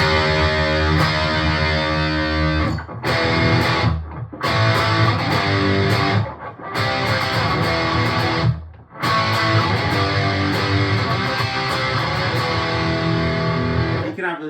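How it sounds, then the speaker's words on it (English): An electric guitar played through a G4M GA-20E mini half stack amp on its metal channel, drive turned halfway, churns out thick distorted chords in several sustained bursts separated by brief abrupt silences, loud and unaccompanied. "if I turn it halfway on the metal channel"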